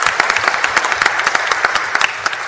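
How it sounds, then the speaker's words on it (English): A church congregation gives a volunteer a round of applause during the announcements, loud and close, with distinct individual claps in a quick, uneven rhythm. "give a big round of applause for Mike."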